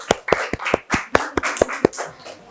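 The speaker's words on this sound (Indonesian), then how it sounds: "Boleh minta tepuk tangannya dulu untuk Armaila." A class of students claps for a classmate named Armaila, a sparse run of separate, crisp hand claps in an uneven rhythm, close and small-room sounding rather than a full ovation.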